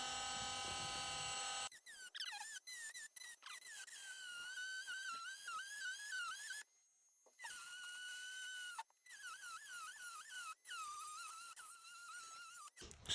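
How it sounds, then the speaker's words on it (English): Dremel rotary tool with a diamond bit grinding through a metal clamping mechanism on a sink supply line, a loud high whine that rises and dips in pitch as the bit bites, with brief stops and restarts throughout. "we're going to use a Dremel with a diamond bit"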